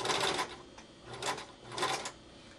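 A sewing machine stitches a pillow in three short motor-driven bursts separated by brief pauses, the whirring runs fairly close and moderate in level with no talk over it.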